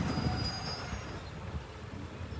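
Riding aboard a train along the rails on a Thai line toward Nakhon Ratchasima, a steady low rumble of wheels with a faint thin squeal above it, continuous and even.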